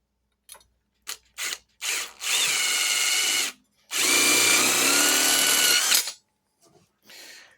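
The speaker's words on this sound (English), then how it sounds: "there are locations that you can come in and just put another self-tapper in there." A power drill drives a self-tapping screw into a metal bracket on a hobby greenhouse, with a few short trigger bursts followed by two long, loud whirring runs as the screw bites and tightens, close up with no talking.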